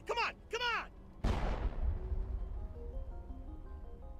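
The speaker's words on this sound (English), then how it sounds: "That was a very strange gunshot sound effect." A single loud gunshot sound effect in the Mass Effect video game booms sharply after two brief synthetic whooshing tones, then rings out into a decaying low rumble with lingering tonal echoes.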